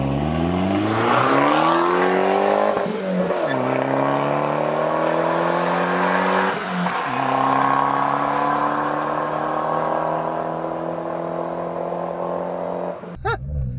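A Subaru Impreza with a loud Nameless Performance exhaust revs repeatedly, climbing and dropping in pitch with a deep, droning exhaust note, close and loud throughout, ending with a sharp cutoff.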